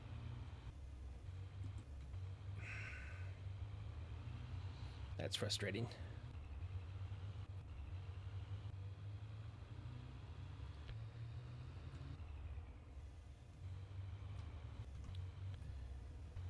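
A car driving in the survival game 7 Days to Die, a steady low engine rumble running throughout beneath a voice, with a brief clatter partway through.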